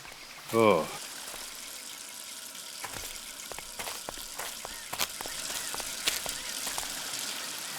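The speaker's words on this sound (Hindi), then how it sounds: "यहाँ पे पानी की पाइप फटी हुई है।" Water gushes from a burst water pipe, a continuous close hiss and splash. A short burst of voices opens the clip and occasional clatter breaks through.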